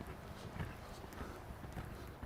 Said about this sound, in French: j'ai un cheval qui saute de plus en plus en ligne